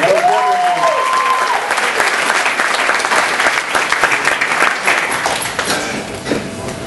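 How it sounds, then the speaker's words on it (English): Audience applause at a spoken-word poetry event: loud, dense, continuous clapping from a sizeable crowd that holds steady and then eases slightly toward the end. "Round of applause for Connor."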